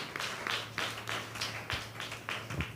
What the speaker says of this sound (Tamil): நல்ல 2 கைகளை தட்டி தேவனை மகிமைப்படுத்து